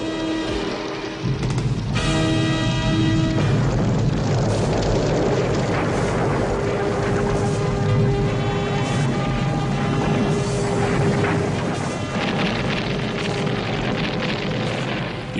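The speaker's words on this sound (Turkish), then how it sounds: "Volkanik bir patlama." A cartoon volcanic eruption roars with continuous, loud, dense rumbling and crashing that holds steady throughout, with tonal effects layered on top and no talking.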